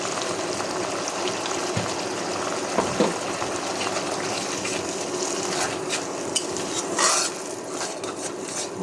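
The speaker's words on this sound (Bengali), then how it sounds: "মশলাটা কষানো হতে থাকে।" Spice paste of turmeric powder, salt and a splash of water stir-fried in a pan for mutton curry, a steady close sizzle with scraping stir strokes and a brief clatter near the end, no talking.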